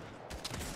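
A short burst of gunfire in the video game Fortnite, a quick cluster of sharp shots heard alone.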